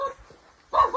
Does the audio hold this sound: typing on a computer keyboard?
no